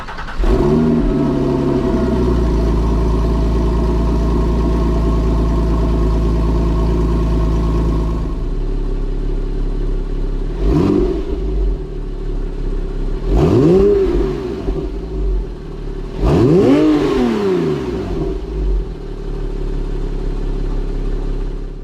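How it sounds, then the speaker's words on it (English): Porsche 911 engine idling steadily with a low, even exhaust note, then three separate throttle blips rise and fall sharply, each louder and longer than the last, heard close with no talking. "the first thing we're going to do is turn the car on so you can hear how it sounds before"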